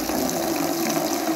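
Water pouring steadily for cows, a continuous rushing gush like a pump or tap filling a container, close and even throughout.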